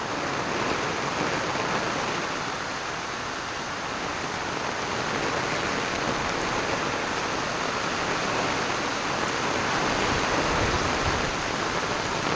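Heavy rain in Mahabaleshwar falls in an unbroken, loud roar, with water running everywhere, and the wash of sound stays steady throughout.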